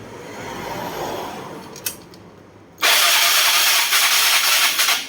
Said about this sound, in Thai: แล้วก็มาสตาร์ทแล้วก็ดึงโชคนะครับ ดึงโชคสตาร์ท